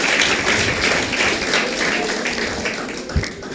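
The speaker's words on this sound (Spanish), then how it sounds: "Denle un fuerte aplauso a Dios" A church congregation gives loud, continuous applause that fills the room and slowly fades, with a sharp knock near the end.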